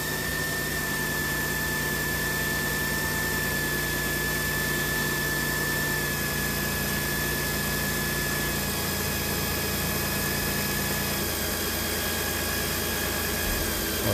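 Failing alternator with bad diodes on a 2008 Jeep Grand Cherokee 4.7L 4x4 at idle, a steady high-pitched whine held over the constant engine drone for the whole clip.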